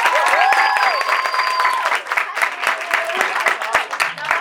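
An audience at a comics panel of a literary festival at PUC-SP applauds Professor Evandro, a dense burst of many clapping hands with a few voices calling out over it, holding steady throughout.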